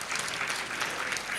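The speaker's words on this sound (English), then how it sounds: "a round of applause, please." An audience at a regional interior-design chapter event applauds, filling the room with a dense, even wash of clapping. The applause is moderately soft and continuous and goes on without any voices over it.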